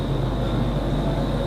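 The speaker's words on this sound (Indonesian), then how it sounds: "Suara pesawat" An airplane passes overhead during a gathering, heard as a loud, steady low drone with a constant faint high whine, unbroken and without talk for the whole moment.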